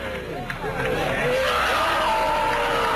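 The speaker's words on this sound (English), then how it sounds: "And now they're lighting the effigy on fire, and everybody's cheering." A crowd cheers and shouts as an effigy is set on fire at a midsummer gathering, a swelling mass of voices and whoops under a talking voice.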